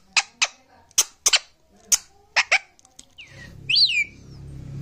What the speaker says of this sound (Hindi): चलो अब सिटी मत मारो।